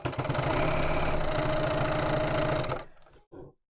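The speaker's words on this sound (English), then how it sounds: "I'm just going to sew close to the edge." A sewing machine stitches close to the edge of a lining with a lengthened stitch, running loud and steady with a fast mechanical rhythm for nearly three seconds before stopping, then a couple of brief clicks follow.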